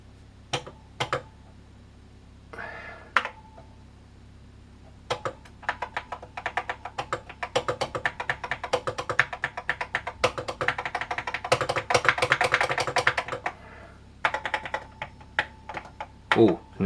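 Rapid keyboard typing, close and fairly loud, with bursts of clicking keys and short pauses between runs of keystrokes.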